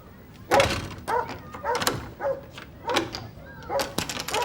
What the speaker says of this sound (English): keep firm hold of that dog